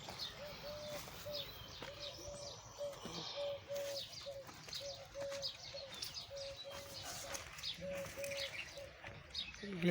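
Pigeons and other birds gather where they are being fed outdoors, with repeated soft cooing and scattered chirps at a low, somewhat distant level over faint background noise.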